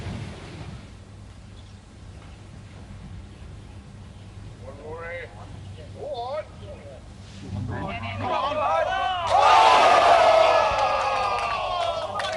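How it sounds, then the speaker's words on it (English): A golf gallery at the 2021 DP World Tour watches Rory McIlroy's tee shot on the 18th and lets out a swelling collective gasp and roar that rises loudly near the end, following earlier commentary voices. "it wasn't a cheer, it was a gasp of how did that stay out from the gallery"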